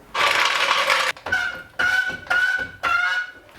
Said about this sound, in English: So what we're going to do is jack the car up, get on axle stands, get cracking.